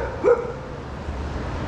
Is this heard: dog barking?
yes